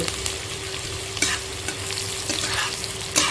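A few curry leaves frying in hot oil for a vegetable curry served at an Agri wedding turmeric ceremony crackle and sizzle steadily, with occasional sharper pops and stirring scrapes, close and moderate.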